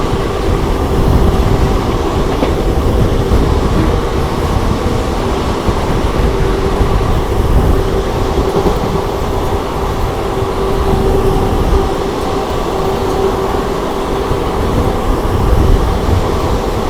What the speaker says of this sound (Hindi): ये देखो नई दिल्ली से चलकर डिब्रूगढ़ को जाने वाली न्यू दिल्ली डिब्रूगढ़ राजधानी एक्सप्रेस।